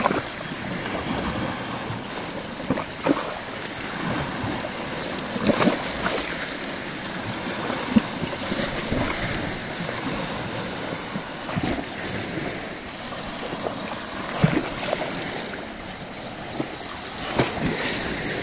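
Sea waves wash and break steadily nearby, with rushing surf and some wind buffeting the microphone, no voices.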